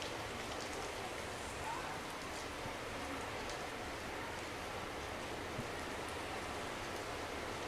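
Rain falls steadily on an outdoor soccer field during a girls' varsity high school match, making a continuous even hiss with faint crowd and commentary sounds far in the background.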